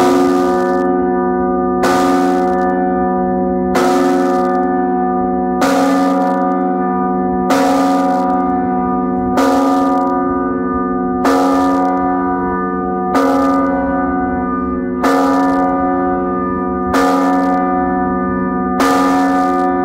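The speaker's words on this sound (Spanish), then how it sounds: "Vamos a escuchar el tañido de la María de la O." A large church bell, the María de la O in Salamanca, Spain, tolls steadily and loudly, about eleven strikes evenly spaced under two seconds apart, each ringing on into the next.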